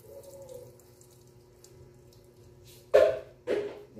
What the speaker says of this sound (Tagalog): Nalagyan natin ng tubig yung ating powder para malusaw siya.